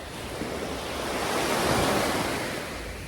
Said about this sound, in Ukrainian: Дивіться, яке сьогодні спокійне море